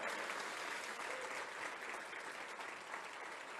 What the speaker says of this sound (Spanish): Dale un aplauso a Jesús, por favor.